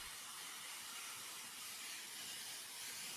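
Steam hisses steadily from the Union Pacific Big Boy 4014 locomotive as it departs, a bright, even rush that holds at the same level throughout without pause.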